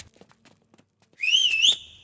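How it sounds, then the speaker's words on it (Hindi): A person gives one clear rising-and-falling whistle of about half a second, loud and close, after a few faint scattered sounds. "तुझे सीटी बजाने आती है क्या?"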